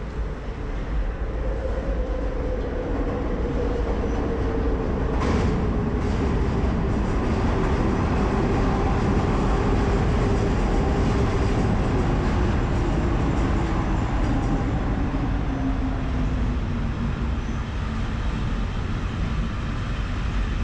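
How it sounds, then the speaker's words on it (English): A train rumbles past loudly and continuously in Kensington, Philadelphia, a heavy steady roar with a low droning tone that slowly shifts in pitch throughout. "let's wait for the train to go by, guys, because it's loud"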